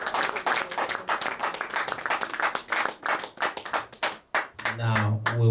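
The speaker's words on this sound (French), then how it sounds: "Let us clap for the Lord." Church congregation clapping for the Lord during an Easter service, dense rhythmic handclaps filling the room, fading near the end as a low voice or tone comes in.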